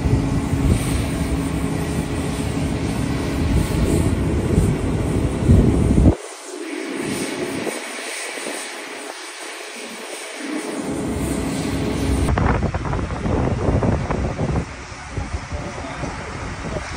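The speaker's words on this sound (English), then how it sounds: "Up inside a cargo freighter 757." Loud, steady roar of engines and airflow inside a Boeing 757 cargo freighter, with a sudden muffled dip midway before the broadband rumble returns and continues unbroken.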